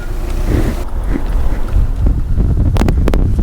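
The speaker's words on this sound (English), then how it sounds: "It's windy in here if you can't tell." Blustery wind rushes and buffets through the open sunroof of a moving VW TDI Sportwagen with a Banks exhaust, a steady loud roar with low rumble and several sharp gust bursts near the end.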